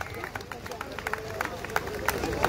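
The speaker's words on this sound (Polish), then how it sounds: "Wielkie brawa dla kobiet, które jechały." Crowd at a women's wreck car race in Poland clapping and cheering, with scattered sharp claps and a steady babble of voices over outdoor noise, under speech.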